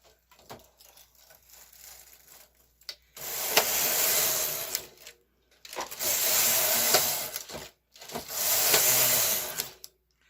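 A machine knitting a sweater rattles in three long, loud bursts, each a couple of seconds of harsh carriage clatter, separated by brief silences, with quieter handling noises at the start.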